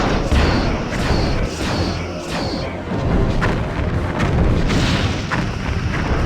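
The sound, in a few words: torpedoes fired in Star Trek Bridge Commander video game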